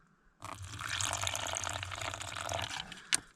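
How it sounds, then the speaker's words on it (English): Warm water pours into a bowl of bread mix outdoors in the woods, a close, soft splashing stream lasting about two seconds, ending with a small clink. "So we add warm water and combine until the mixture is leaving the sides of the bowl."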